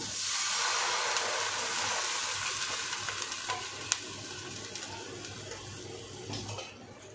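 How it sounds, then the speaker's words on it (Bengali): A little water poured into a hot wok for cooking aloo kulcha, a loud hissing sizzle that rises at once and then slowly settles, with a faint clink partway through. "এবার আমি এই কড়াইয়ের মধ্যে জল দিয়ে দেব, আন্দাজ করে অল্প করে জল দেব।"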